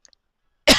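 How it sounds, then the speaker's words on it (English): A single short, sharp cough from an adult bursts out loud and close at the end, after a moment of near silence with a couple of faint clicks. "sorry, I got a cough."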